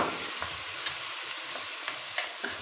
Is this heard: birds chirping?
no